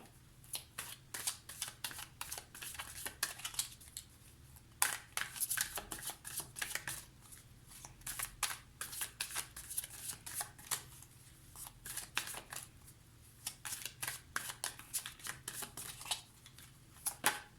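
Tarot cards being shuffled for a reading, a continuous run of rapid, crisp riffling flutters close to the mic that pauses briefly and then resumes.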